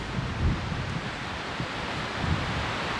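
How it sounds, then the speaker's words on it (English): Wind blows outdoors across the microphone as a steady, rough buffeting rush with a few soft low gusts. No voices are heard. "Come over this way, the wind might be a little less noisy."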